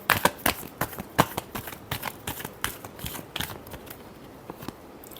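A tarot deck being shuffled by hand, close and quiet, with a series of sharp papery snaps that start brisk and grow sparser and softer toward the end, no voices.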